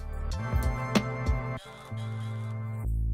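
A drum pattern from a pad-based beat machine plays with punchy hits, then the drums drop out as the drum pad group is muted, leaving a sustained tonal backing.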